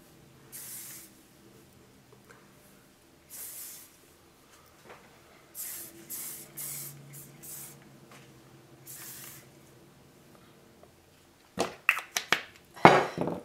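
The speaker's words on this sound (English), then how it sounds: "spray my hand a little bit, get rid of the flyaways" Several short hissing bursts of hairspray, spaced apart, then a few sharp clicks and rattles near the end; no talking.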